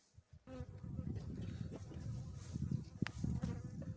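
Honeybees crowding winter hive frames, giving a steady close buzzing drone that holds throughout at moderate loudness after a brief quiet start.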